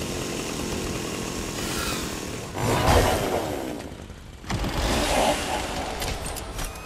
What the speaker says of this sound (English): It's another chainsaw back here, I just pinged it.